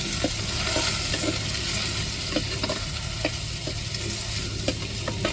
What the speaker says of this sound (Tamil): இப்போ தக்காளி மிளகாயை சேர்த்து நல்லா வதக்கி விட்டுக்கிடுவோம்.